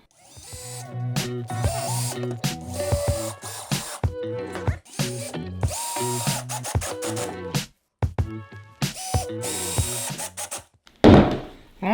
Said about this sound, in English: We're going to run some screws through it.